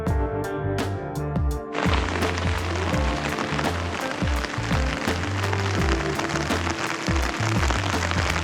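Heavy Pacific Northwest rain drums on an open umbrella in Washington, a close, dense patter with sharper individual drop hits, starting from a quieter moment before the downpour fills in.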